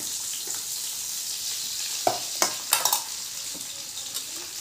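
Garlic and red chili sizzle in hot oil in a pan for a Konkan-style tempering, a steady bright hiss broken by a few sharp crackles and the clink of a spoon stirring, close by with no talking.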